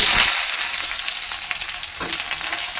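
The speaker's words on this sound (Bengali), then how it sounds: "নাড়াচাড়া করে পেঁয়াজটা ভাজা ভাজা করে নেব" Sliced onions sizzle steadily in hot oil with dried red chillies, cinnamon, cumin, cloves, cardamom and bay leaf, a close, continuous frying hiss broken by a few faint stirring scrapes.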